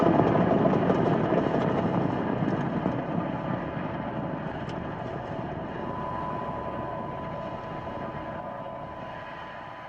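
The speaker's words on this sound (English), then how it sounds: "Falcon 9 has successfully lifted off from Space Launch Complex 40 at Cape Canaveral Space Force Station in Florida." Falcon 9 rocket lifting off from Space Launch Complex 40 at Cape Canaveral, Florida, its Merlin engines giving a steady, broad, rumbling roar that stays loud throughout and fades only slightly.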